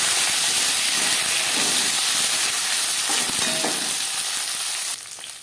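Beans and carrots drop into a pan with cumin seeds and chilli and fry with a loud, continuous sizzling hiss that runs steadily before thinning out abruptly near the end.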